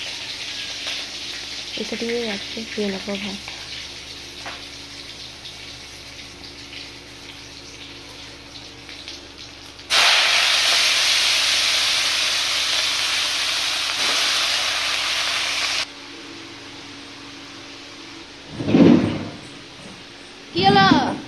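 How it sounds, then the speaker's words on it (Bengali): Cabbage drops into a hot pan and fries with a sudden, loud, hissing sizzle that holds steady for several seconds. Speech is heard before and after in a home kitchen. "এই বাঁধাকপি ভাজা করব"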